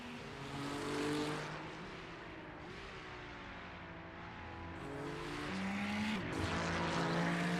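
Ferrari Challenge race cars in the iRacing sim, engines droning steadily in a pack with rising and falling pitch as gears change, a loud sustained roar that swells near the end, no talk over it.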